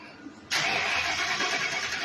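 A 1968 Dodge Charger running a Crown Vic drivetrain fires up after a brief quiet moment, its engine catching abruptly and settling into a loud, steady roar close by.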